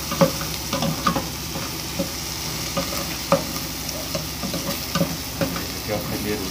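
Garlic frying in a pan for bow-tie pasta, a steady close sizzle with light scraping and stirring clicks scattered throughout.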